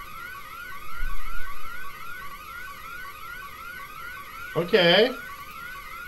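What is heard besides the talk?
alarm sounding in video game Bad Dream: Coma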